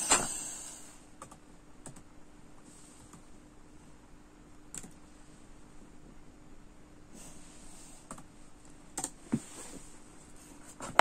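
A computer keyboard clicks with scattered keystrokes, close by and fairly quiet, spaced irregularly over a faint steady hum. A few louder taps come near the end. No one speaks.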